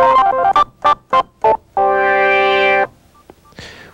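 Kurzweil K2500 synthesizer plays a sequence of short, separated tones, then one sustained harmonic note held for about a second before cutting off, all loud and close with no voices.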